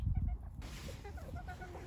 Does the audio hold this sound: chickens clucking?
yes